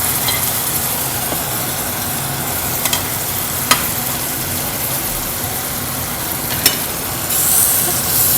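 Peas and carrots are stirred in a frying pan for a poori masala, a steady sizzle running throughout with a few sharp clinks of the utensil against the pan.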